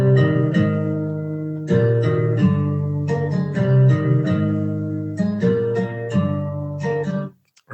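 Music sample played back for a beat breakdown, a looping sequence of sustained, chord-like tones with repeated plucked attacks, moderately loud and clear, ending abruptly, with no talking.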